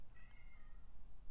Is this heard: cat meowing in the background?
yes